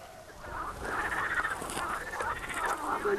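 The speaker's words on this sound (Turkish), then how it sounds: "İçinde kurbağaların bağırıştığı bu küçük su birikintisi aslında eski bir kömür ocağından geriye kalan çukur." Frogs croaking in a small pond in an old coal pit, a dense chorus of overlapping throaty croaks at moderate distance, steady throughout with no voices.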